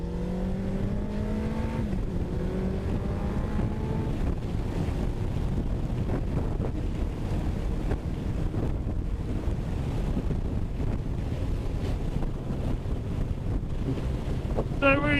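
Suzuki Hayabusa motorcycle cruising at speed on the road, steady engine hum with rising gear whine early on, buried under loud, continuous wind buffeting on the microphone.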